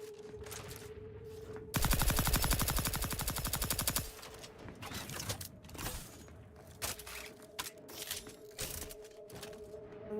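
A dual-barrel gun in The Outer Worlds 2 game fires a rapid, loud burst of shots for about two seconds, followed by scattered single shots and clicks among quieter gameplay sounds.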